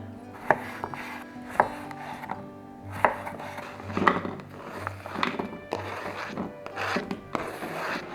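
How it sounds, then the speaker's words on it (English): A knife slicing cucumber and mini sweet peppers on a cutting board, with sharp close chops every second or so and softer rubbing cuts between them. "So first, we're just gonna chop up our cucumber and our mini sweet peppers"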